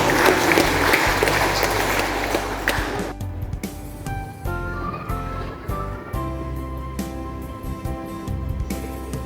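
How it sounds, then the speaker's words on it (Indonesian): An audience at a church ceremony installing pastoral community coordinators claps in a loud, dense burst for about three seconds. Then the clapping gives way to music with steady tones and beats. "tepuk tangan untuk kita semua"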